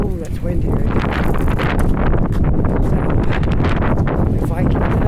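Strong wind gusts through a street in Halifax's North End, a constant loud rush buffeting the microphone, with a voice talking faintly beneath it.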